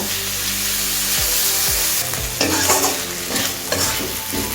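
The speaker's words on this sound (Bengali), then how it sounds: "টমেটোটা দেওয়ার পর আমি এটাকে নাড়তে থাকবো যতক্ষণ না টমেটো একটু সফট হয়ে যায়" Tomato frying and being stirred in a pan for a ridge gourd bharta, with a steady close sizzle and repeated scraping strokes of the spoon across the pan, no voices.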